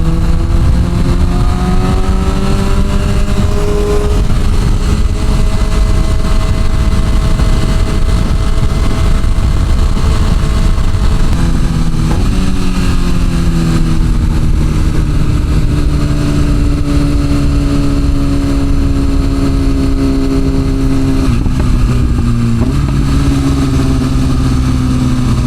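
A BMW M1000RR motorcycle engine revs loud and close throughout, its pitch rising and falling in smooth throttle sweeps in first gear, with sharp dips at gear or throttle changes and no talking.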